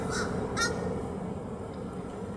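A crow caws twice in quick succession, distinct but not close, over steady outdoor background noise at a cruise ship embarkation area.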